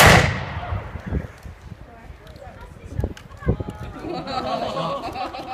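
A historic black-powder gun fires a single sharp blast during a Jamestown living-history demonstration, a loud crack near the start that fades quickly, followed by shouted commands and crowd chatter.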